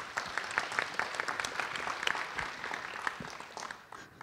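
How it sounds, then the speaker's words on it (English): Steady applause from a conference audience thanking panelists at an aviation security session, a moderately loud wash of many hands clapping that fades slightly at the close. "give them a round of applause"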